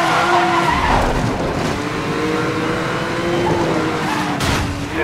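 Porsche Carrera racing in Need for Speed Most Wanted (2012), tires skidding and squealing over a steady loud engine roar that holds throughout, pitch shifting as the car slides through turns.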